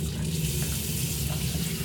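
Bathroom sink tap running steadily, a continuous close splashing hiss of water pouring into the basin.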